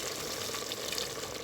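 Water pours steadily into a cooking pot of meat and onions being stewed for a baked potato dish, a continuous hissing splash at close range with no talk.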